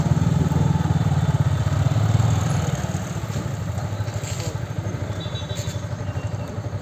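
Club members' motorcycles rumble together as the group sets off on a New Year's Day club outing, a steady, loud, low engine drone that eases slightly partway through, with no clear talk.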